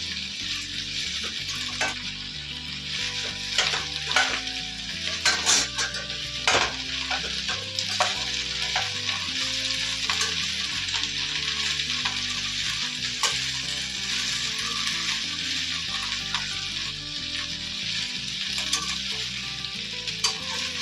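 Okra stir-fried in a pan for bhindi do pyaza, a steady loud sizzle and crackle of frying with occasional stirring scrapes, continuous throughout with no talking.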